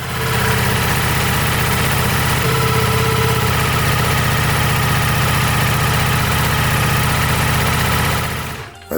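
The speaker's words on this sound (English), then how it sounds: "I then start the engine, allowing it to only idle until the oil drops" A Ducati Multistrada V4 Rally motorcycle engine idles close up after an oil change, a steady low throbbing drone with a faint mechanical rattle, holding constant for several seconds before being shut off.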